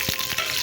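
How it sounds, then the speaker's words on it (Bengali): Green chillies fry in hot oil, a steady close sizzle with a couple of soft crackling pops, while making a taki fish bhorta. "তো এখন আমি আগে মরিচগুলো ভেজে নিই"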